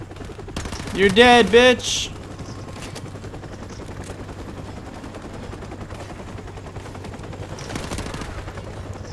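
Rapid MP5 submachine-gun fire in Call of Duty: Modern Warfare Remastered campaign, a steady dense rattle of shots running under a loud spoken outburst and continuous game noise, with a chopper gunner nearby.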